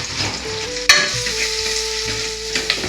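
Chopped onions fry in a pan, giving a steady close sizzle with a sharp clink of a utensil near the start and light stirring sounds throughout, no voices present.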